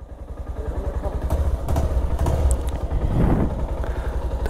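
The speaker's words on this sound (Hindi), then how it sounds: "ये तो बाइक पार्किंग करेंगे" A Bajaj Pulsar 220 motorcycle being ridden slowly in to park, its single engine thumping in a steady low putter close to the microphone with some mechanical clatter.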